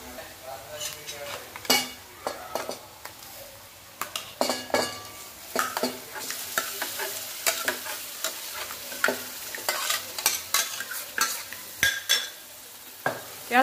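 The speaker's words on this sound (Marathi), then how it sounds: "त्याच्यामध्ये भाजी टाकून घेऊया" Pav bhaji vegetables are stirred and fried in roasted masala, a spoon scraping and clanking against the pot in repeated sharp strokes over a steady sizzle, close and busy for about fourteen seconds.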